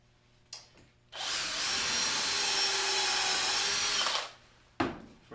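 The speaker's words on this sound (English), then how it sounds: "I'm just going to screw it down." A cordless drill drives a star-bit torque screw into wood while a circular saw jig is being built: one steady, loud whir lasting about three seconds, with short taps and clicks before and after.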